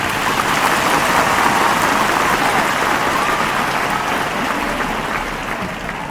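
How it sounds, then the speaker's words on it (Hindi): Students at a school farewell ceremony give loud applause to welcome a commissioner, a steady, dense roar of many hands clapping that holds evenly throughout and fades slightly near the end. "इतने जोरदार तालियों के साथ सर का स्वागत करें"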